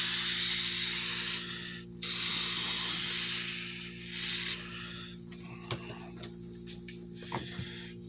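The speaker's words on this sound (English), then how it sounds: "just spray this down with this, kind of coat the inside with rubber" An aerosol can sprays rubber coating inside a fiberglass helmet in long hissing bursts, pausing briefly, then gives way to a few short clicks and rattles of handling close by.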